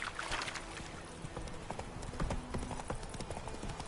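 Horse hooves clip-clop at a steady walking pace as Geralt rides Roach in The Witcher 3: Wild Hunt, close and continuous throughout with light game ambience behind.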